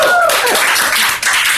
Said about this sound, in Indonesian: Itu tepuk tangan